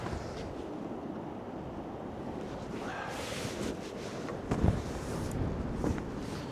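Gusty wind roars across the microphone at a sea wall after a storm, with waves surging and crashing in a continuous rough wash and a louder thump of surf near the end.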